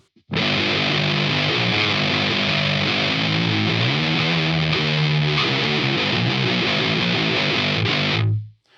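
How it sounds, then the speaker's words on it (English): Heavily distorted electric guitar through a Hotone Djent pedal with distortion at maximum plays a continuous riff of sustained, fuzzy chords, loud and close, then cuts off abruptly near the end. "So let's push the distortion all the way up,"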